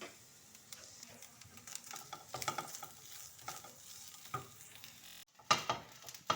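Chicken pieces frying and being stirred in a pan for a pizza cutlet recipe, with soft, low sizzling and scraping from a spoon throughout. A brief pause is followed by a few louder clatters.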